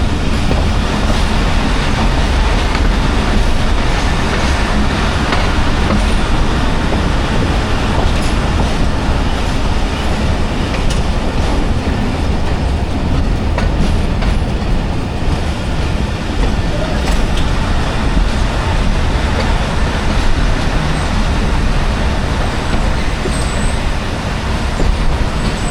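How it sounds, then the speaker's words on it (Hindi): Awam Express train 13 Up rolling into Taxila Cantt Junction, a steady loud rumble of wheels and carriages throughout with faint clickety-clack, continuous and close, no talking. "टेक्सला कैंट जंक्शन पे अप्रोच बना रही है 13 अप अवाम एक्सप्रेस"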